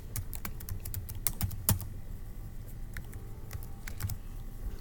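Password typed on a computer keyboard at a sign-in screen: a steady run of quick, light key clicks close up, with a few louder taps, over faint room hum and no talking.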